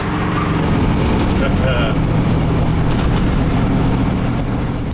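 A 1968 Chevrolet G10 panel van with a 350 V8 and automatic transmission drives along, its engine droning loudly and steadily inside the cab with road noise, and a voice speaking briefly over it.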